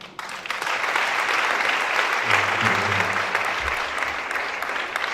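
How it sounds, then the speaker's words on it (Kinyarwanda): A church congregation breaks into sustained applause, a broad, even wash of many hands clapping throughout, with a faint low voice or tone rising briefly beneath it. "Kongera dukomere Imana amashyi menshi."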